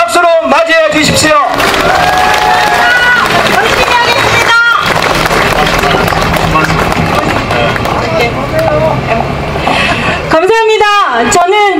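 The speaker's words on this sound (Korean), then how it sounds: "우리 진선미, 우리 민주통합당 비례대표님, 여러분 뜨거운 박수로 맞이해 주십시오." At a Yeongdeungpo election campaign rally, a large outdoor crowd cheers, whoops and claps to welcome a Democratic United Party proportional representative candidate, loud and sustained, with amplified voices shouting over it at the start and end.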